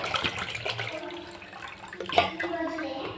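About a litre of water is poured into a bottle, making a short, close splashing gush like running tap water that swells briefly near the end.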